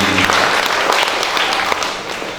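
An audience at a martial arts association officials' inauguration ceremony in Tegal, 2019, breaks into dense, loud applause that holds steady for a couple of seconds before tapering slightly.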